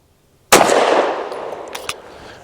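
Single sharp pistol shot from a Tisas PX 9 Duty Comp firing Hornady Critical Duty 135 grain ammunition, loud and close with a ringing decay, followed by a faint metallic click.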